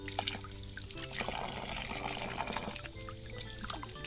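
Water runs continuously from a park tap used for washing hands and feet in Japan, a steady splashing trickle with a faint background hum.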